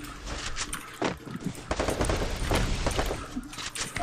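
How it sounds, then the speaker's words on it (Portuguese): Rapid bursts of automatic gunfire and explosions, dense and continuous, with sharper cracks standing out from the noisy background. "Dei capa no Reni, um tiro."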